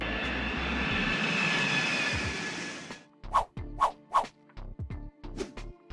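An airplane's engines roar steadily and loudly during takeoff for about three seconds and then cut off abruptly, followed by a few sharp clicks and knocks.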